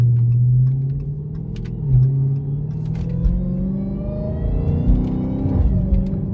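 A Dodge Hellcat fitted with a JLT cold air intake gives a deep, loud engine rumble with rising revs and a whirring intake note, heard close and continuous with no talk.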